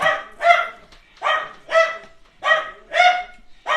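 A dog barks repeatedly in a steady rhythm, about two barks per second, close and clear with no voices.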